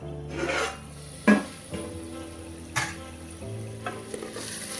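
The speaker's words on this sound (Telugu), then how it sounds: "ఇలా ఆయిల్ పైకి వచ్చేంత వరకు ఫ్రై చేయాలి" Mutton curry frying in oil while being stirred, sizzling under a series of scraping strokes and knocks of the spoon against the pan, close by, no talking.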